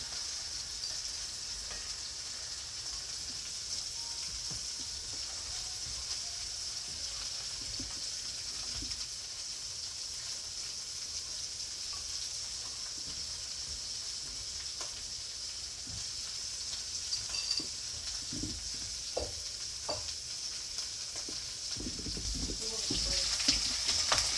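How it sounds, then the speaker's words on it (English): Crispy bacon frying in its rendered grease, a steady soft sizzle running continuously with faint clinks near the end, as cooking for a Smoky Mountain steamed cabbage and Conecuh sausage meal. "We let it cook long enough to get as much grease as we possibly could out of the bacon."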